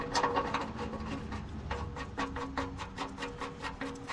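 A steel oil drain plug with a new copper washer being hand-threaded back into the oil pan of a Ford 7.3 Powerstroke diesel truck, with quiet repeated scraping and rasping clicks as it turns, close up and fairly faint.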